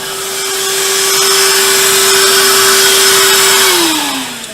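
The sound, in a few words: shop vacuum cleaner running with drill press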